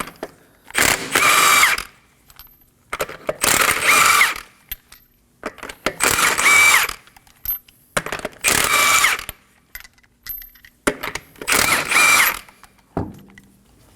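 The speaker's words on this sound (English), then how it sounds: "Using a 21mm socket, we're going to remove the wheel." A power impact tool whirs and rattles in five loud bursts of a second or two each, separated by short pauses, close up, as a 21mm socket removes the lug nuts from a front wheel of a 2016-2020 Kia Sorento.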